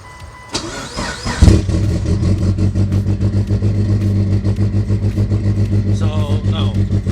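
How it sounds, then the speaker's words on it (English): A Mitsubishi Lancer Evolution engine cranks briefly, catches with a loud surge, then settles into a steady, loping idle with an even rhythmic pulse. "what you want to do is start the car"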